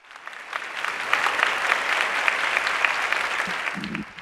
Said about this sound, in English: One more round of applause for Kate.